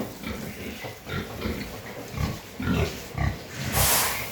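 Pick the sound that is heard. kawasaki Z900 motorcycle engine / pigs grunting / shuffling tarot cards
pigs grunting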